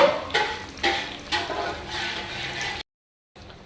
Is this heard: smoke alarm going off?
no